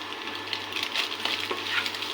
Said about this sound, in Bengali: এরপর ভালোভাবে নেড়ে নেব।